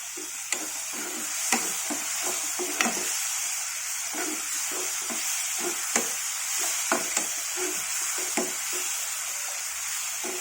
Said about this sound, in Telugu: మనకు పోపే వేగాలి